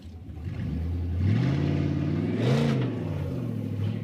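A stuck off-road vehicle's engine revs up and down as it rocks forward over a small bump, with rising and falling harmonic pitch sweeps and a sharper surge in the middle, loud and close throughout.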